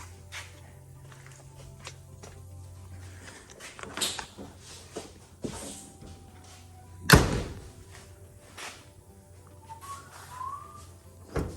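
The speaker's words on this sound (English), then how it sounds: "And the door shuts and latches really, really good." A few scattered knocks and clicks build to one loud, sharp door slam with a latching clack on a 1968 Chevrolet C10 pickup fitted with bear claw latches, followed by quieter handling noises and faint bird chirps.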